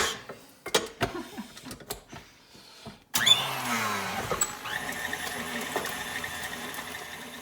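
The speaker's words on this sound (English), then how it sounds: "You can do this by hand, but I prefer to use a mixer" An electric mixer whirs steadily while stirring lasagna filling, starting abruptly after some earlier clatter and running continuously at moderate loudness with a wavering motor tone.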